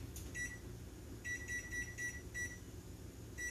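A kitchen timer set for five minutes of cooking gives a run of short electronic beeps in quick bursts, faint over a low background hum, with no talk.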